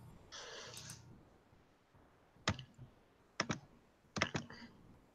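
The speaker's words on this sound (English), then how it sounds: "I can hear you typing, man." Bursts of computer keyboard typing on a podcast call, a few quick clustered keystroke runs separated by pauses, faint and picked up through a microphone, with no talking.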